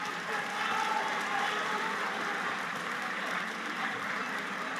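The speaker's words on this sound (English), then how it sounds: "Please, let's clap for them." A school quiz audience applauds the contestants of a quarterfinal round, a dense, even wash of clapping from a crowd in a hall that holds steady for several seconds.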